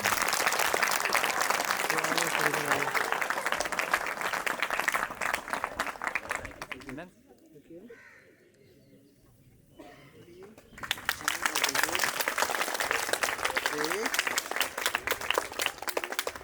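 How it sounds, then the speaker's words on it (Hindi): An audience at a retirement ceremony claps loudly and steadily, stops briefly in the middle while a voice and faint bird calls come through, then bursts into strong applause again. "तालियां हो जाए इनके लिए।"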